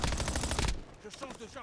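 Rapid bursts of automatic gunfire from a video game rattle loudly for under a second, then cut off as a voice starts talking over quieter game sounds.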